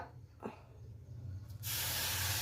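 After a quiet moment, a loud sizzling hiss bursts out suddenly and keeps going as a drop of water hits sesame seeds in a very hot pan.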